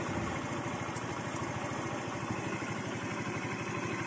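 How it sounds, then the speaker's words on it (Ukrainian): A motorcycle engine idles quietly and evenly after a carburetor adjustment, a soft, steady low putter with a regular pulsing rhythm, heard alone. "Ми карбюратор регульнули. І він завівся. Тихенько добре працює."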